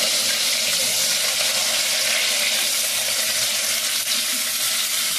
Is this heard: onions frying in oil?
yes